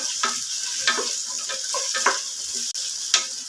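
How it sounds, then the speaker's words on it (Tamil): Onions, half shallots and half large onions with a green chilli, sautéing in a pan for black chickpea biryani, a steady close sizzle broken by spatula stirs and scrapes, with no talking. "நல்லா வதங்கட்டுங்க. வெங்காயம்,"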